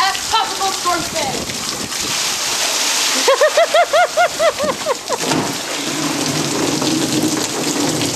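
Heavy rain pours steadily during Tropical Storm Fay in August 2008, a dense, loud hiss of drops splashing on surfaces throughout, with voices talking and calling out partway through.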